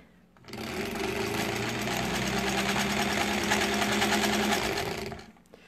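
A sewing machine motor runs steadily for about five seconds during quilt piecing, a loud continuous mechanical whir with rapid needle chatter that starts and stops cleanly.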